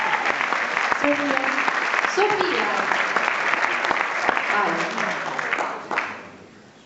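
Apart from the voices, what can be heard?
audience applause for the hostess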